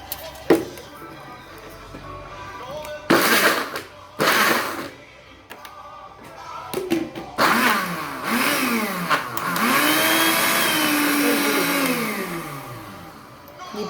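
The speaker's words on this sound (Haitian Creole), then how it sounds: "Je vais bien battre dans le blender." A blender whirs in short bursts as it mixes a natural hair treatment. Its motor pitch swoops up and down through several pulses, then settles into a longer continuous whir near the end.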